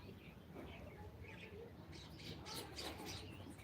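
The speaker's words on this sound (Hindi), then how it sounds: "देखिए कैसे चिड़िया आई हैं चादर के ऊपर" Small birds landing on a sheet laid outdoors, giving faint, scattered chirps and tweets over a steady background hiss, busier toward the end.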